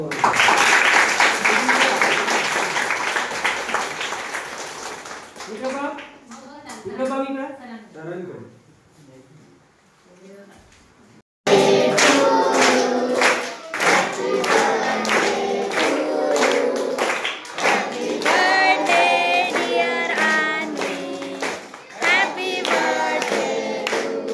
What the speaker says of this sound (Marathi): टाळ्या वगैरे